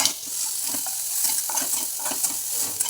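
Chopped onion and green chilli fry in a little oil in a kadhai, a bright steady sizzle carrying irregular clinks and scrapes of a spoon stirring nearby, with no one talking.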